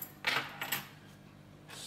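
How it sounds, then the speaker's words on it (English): Loose keys pulled from locks are tossed into a box, giving two short bright metallic jangles close by, followed by a softer clink near the end, with no voices. "getting keys, taking them out of the locks, and chucking them into a box"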